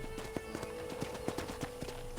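Horse hooves clip-clop in a steady, irregular walking rhythm in the video game Red Dead Redemption, a series of distinct soft thuds over a continuous background hum with faint ambient noise.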